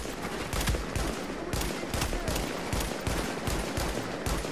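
Gunfire in The Division's Dark Zone: a fast, regular run of sharp shots, close and punchy, repeating evenly for several seconds with no speech.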